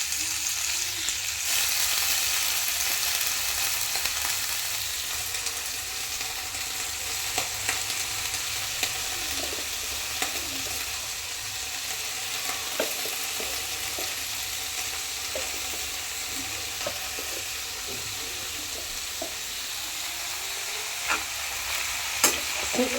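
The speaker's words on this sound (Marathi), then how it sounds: "हलवून घे. पूर्ण हलवते. बघा अशी शिजते भाजी." Fenugreek leaves frying in a pan while being stirred, giving a continuous close sizzle with scattered light scrapes and clicks of the spoon throughout.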